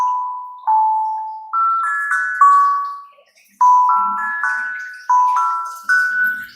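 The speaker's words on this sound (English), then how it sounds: "it's sort of like a wind chime, but it's when the rain" A rain drum hung outdoors chimes like a wind chime, giving clear bell-like tones in rising and falling melodic phrases. There are two runs of ringing notes with a short pause between them, and no talking.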